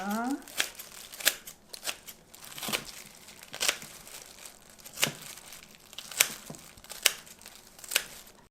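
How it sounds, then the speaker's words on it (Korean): Scissors cut kimchi in a home kitchen while noodle soup is prepared, making a steady series of close, crisp snips and wet crunches, each cut followed by a short pause. "김치는 가위로 자르게 잘라줄게요"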